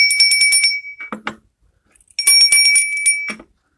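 Small metal bells embossed with a Thai Buddha symbol are struck twice, each strike giving a bright, shimmering ring that sustains for about a second before fading, close and loud with no talk.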